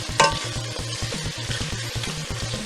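Baked beans with brown sugar and black pepper stirred in a hot pot on the stove, a steady low simmering sizzle with rhythmic scraping strokes of the spoon, one louder clank near the start, close and continuous.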